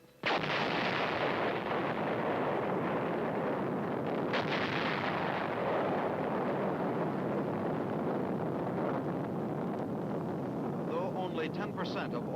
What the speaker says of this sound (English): Within 30 seconds will come the thunderous roar of the explosion 7 miles away.